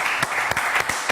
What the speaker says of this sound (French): Allez, on applaudit très fort Yann Stotz.